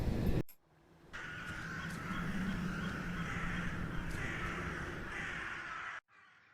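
A crow caws in a steady, drawn-out call held for several seconds, moderately near and alone, framed by a short burst of sound before and after.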